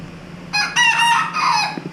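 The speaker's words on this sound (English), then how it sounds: "my rooster crow was just as bad as his" A rooster crows once, close and loud, in a drawn-out, broken call over a quiet background hum.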